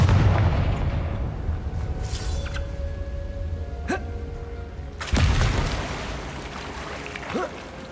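Incendio and Confringo spells are cast in Hogwarts Legacy, bursting with loud booming blasts and whooshes over a rumbling background, with one big explosive hit midway.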